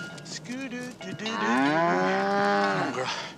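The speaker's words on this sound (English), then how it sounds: "I found a cow." A cow moos loudly at close range, one long drawn-out bellow that rises and holds steady before tapering off, heard alone without talk.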